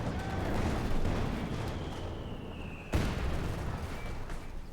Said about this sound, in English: Heavy mortar still at it.